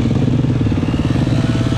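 An enduro motorcycle engine runs loud and close during a riding lesson, a steady low throbbing drone with a rapid pulsing rhythm and no pauses.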